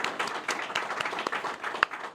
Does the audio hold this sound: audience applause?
yes